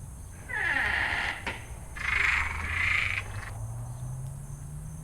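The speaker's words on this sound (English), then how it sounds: "My mnemonic for Cuban tree frogs is opening a door in a scary movie." Cuban tree frogs calling in a few rasping, creaky bursts, like a slow door hinge, close and fairly loud against a steady background hiss, with no voices.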